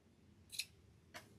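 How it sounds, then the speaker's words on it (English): Two quick scissor snips trimming ribbon, the first sharper and louder, the second softer about half a second later, against a quiet background. "I'm going to take my scissors and trim this."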